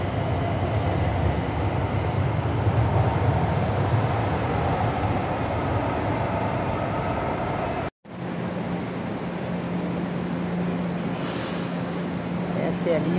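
A São Paulo metro Line 3 train rides along near Brás station on a crowded Sunday, with a loud, continuous rumble and rolling hum throughout, one brief cut partway through, and faint squeals later.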